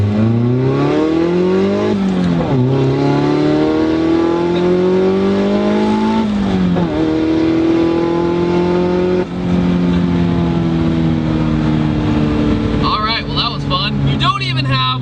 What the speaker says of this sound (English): You just have to keep the revs up a little bit sometimes.